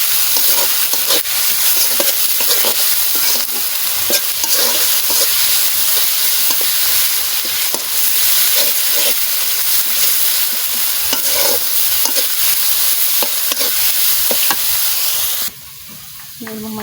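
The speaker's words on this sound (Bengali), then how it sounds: "এখন এই যে এগুলো দিয়ে দেব সব। কিছুক্ষণ এভাবে কষাবো।" Spices being stirred and sautéed in a pan over a clay stove, a dense continuous sizzle with scraping strokes throughout, loud and close, cutting off abruptly near the end.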